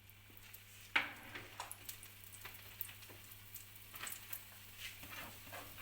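Batbout bread dough cooking in a pan with a drizzle of vegetable oil, giving a faint, steady sizzle with a few small crackles and a light pan clink, close and quiet.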